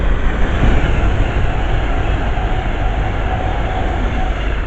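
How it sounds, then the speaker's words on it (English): A Pendolino train runs through platform 4 at Harrow & Wealdstone station without stopping, a loud, steady broadband roar of wheels and carriages rushing past close by for the whole stretch. "There's a Pendolino coming at platform 4 that is not stopping"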